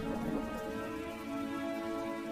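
Steady rain falls as a sound effect in an animated Hindi folk story about a farmer during the rainy rice-planting season, a continuous even hiss with faint tonal music running underneath and no voices.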